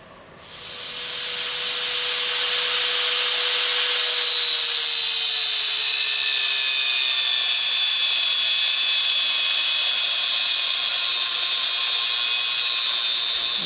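A metal rod for a go-kart idler pulley is cut with a power tool. A steady, loud, high-pitched hissing whine with faint tonal squeals starts abruptly and runs unbroken for over ten seconds, with no talking.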